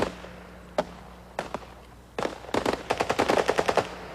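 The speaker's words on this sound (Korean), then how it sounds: "첫 총성이 울리면 그대는 즉각 반격을 가한다." Gunfire erupts during a commando ambush by Turkish special forces: a few isolated shots, then rapid automatic bursts in a quick rhythmic string, sharp and fairly distant.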